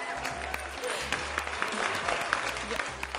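Studio applause on a television gardening show about poinsettias, a steady crackling wash of clapping hands over a low droning hum of background music.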